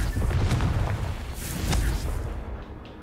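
Confringo fire spell blasts in the Hogwarts Legacy video game, a rumbling low boom that swells and fades over a few seconds, with crackling bursts layered on top and no voices.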